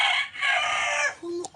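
A chicken calls close by in a short, loud burst of squawking clucks that breaks off abruptly, followed by a brief higher note, with no talking.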